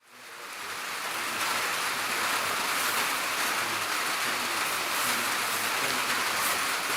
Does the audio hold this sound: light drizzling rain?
yes